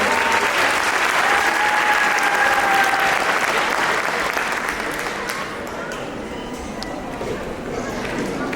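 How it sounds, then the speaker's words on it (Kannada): An audience at a Ganesh Chaturthi cultural program gives the children a loud round of applause that stays full and thick for several seconds, then thins and softens toward the end. "ಮತ್ತೊಮ್ಮೆ ಜೋರದ ಚಪ್ಪಾಳೆ ಮಕ್ಕಳಿಗೆ."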